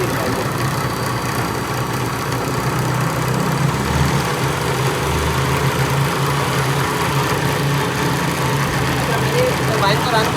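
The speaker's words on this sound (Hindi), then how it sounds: "टरबाइन को रन कर दिया, अब जब तक ये फ्री रन करती रहेगी, इस पर लोड नहीं डालेंगे" A Francis turbine spinning freely with no load, a loud continuous droning hum with a low rumble and steady mechanical roar that holds unchanged throughout.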